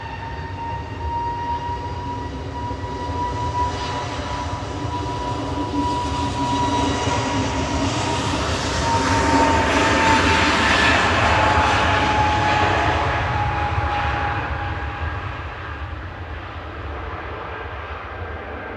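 A plane departing Manchester Airport for Amsterdam roars in a long steady jet rumble with a faint whine, swelling to a peak midway and then slowly fading as it climbs away.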